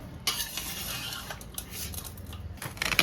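Kudumulu dough with salt is worked by hand in a bowl, a close, continuous soft squelching and scraping with small clicks of the bowl, without talk.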